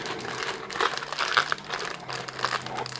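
Packaging for a Kodak printer refill cartridge crinkles and crumples as it is unwrapped by hand, a close, steady rustle with a few louder crackles and no talking.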